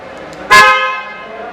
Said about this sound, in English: Its horn is kind of irritating for me personally.